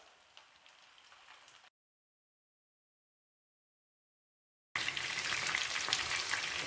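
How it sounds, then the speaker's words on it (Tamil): Fish frying in hot oil, a steady hissing sizzle, faint at first, then a gap of silence, then returning much louder and closer. "மீனை வந்து நம்ம ரொம்ப நேரத்துக்கு வறுக்கக்கூடாது."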